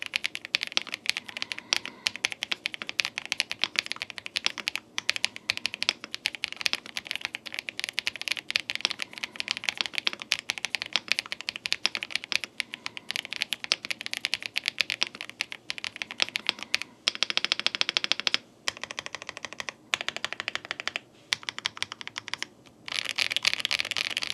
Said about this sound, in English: let's do one of the most important parts of any mechanical keyboards review. Let's do a sound test.